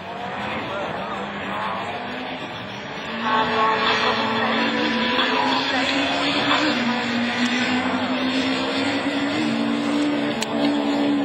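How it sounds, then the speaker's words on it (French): Renault Clio rallycross car racing at a French championship round at Lavaré, its engine roaring loudly and rising in pitch, with a tire squeal under braking and a race commentator talking over it. "le freinage là de la Clio de David Vincent"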